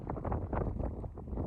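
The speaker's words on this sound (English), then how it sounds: "Super windy." Strong wind gusting near the foot of Mount Langley in the John Muir Wilderness, buffeting the microphone in a series of rough low rumbling bursts.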